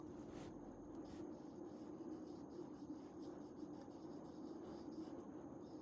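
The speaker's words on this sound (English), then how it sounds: "I'll just write one thing." Handwriting drags steadily across a surface, a faint continuous scratching rub heard close up and alone over a low background hum.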